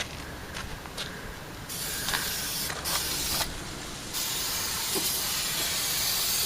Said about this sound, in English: I wanna just spray down here.